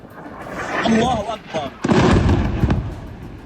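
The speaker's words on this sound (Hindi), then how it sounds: "वो मिसाइलें अलग अलग टारगेटों पर फटनी शुरू हो गईं" Heavy booms and blasts rumble in a loud, chaotic burst, with shouting voices caught between and under the explosions.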